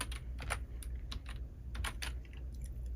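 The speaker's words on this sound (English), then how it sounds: "Let me type in mushroom here." Keys tapped on a computer keyboard at a desk, a close, quiet run of quick irregular clicks over a low steady background hum, with no one talking.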